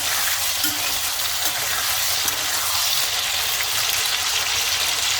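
Cut potatoes with salt frying in a pan over a medium flame, a loud, dense, continuous sizzle that holds steady throughout, close up, with faint stirring underneath and no voices.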